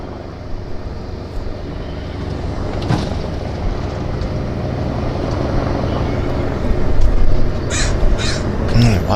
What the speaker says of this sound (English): Lots of birds about.